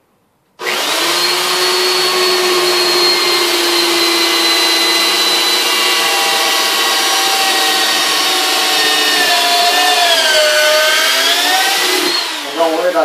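Power drill cutting a hole in a wooden Viking round shield, a loud continuous whirring motor whine held close for about twelve seconds, pitch dipping slightly under load near the end before it cuts off.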